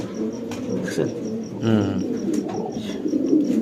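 Pigeons kept for sale in Bangladesh coo close by, with soft throaty calls repeating over a few seconds alongside faint chirps.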